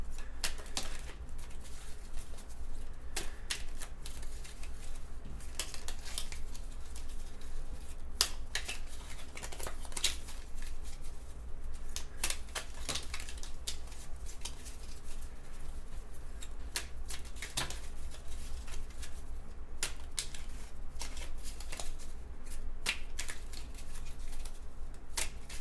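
Continuous dry shuffling and clicking of a deck of small cards being mixed close by, with irregular sharp snaps over a constant low rumble.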